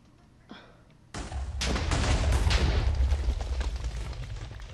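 Explosion in the Minecraft video game: a sudden loud blast followed by a sustained rumbling roar of debris lasting several seconds, after a faint brief pop.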